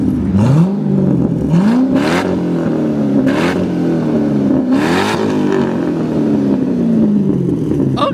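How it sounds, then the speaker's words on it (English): A straight-piped LS3 V8 in a C6 Corvette revs loudly and close, its pitch climbing and dropping in repeated throttle blips over a continuous deep exhaust rumble. "I'm gonna have Kevin rev it for me"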